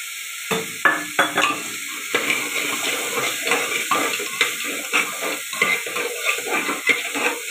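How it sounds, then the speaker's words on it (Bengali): Vegetables and lentils fry in a pan with a steady broad sizzle, broken by repeated scraping stirs and light clinks against the pan, close up, with no talking. "এটা খুব বেশি ভাজবো না, সবজিটা একটু অল্প করেই ভাজবো।"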